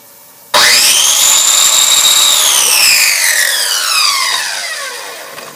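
Power tool, likely an angle grinder, cutting through a metal platen: a loud, close, sustained high-pitched whine starts abruptly and slowly drops in pitch as the blade loads into the metal, then eases off toward the end.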